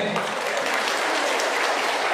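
A crowd at a political speech applauds loudly, a dense, continuous wash of many hands clapping close by without pause.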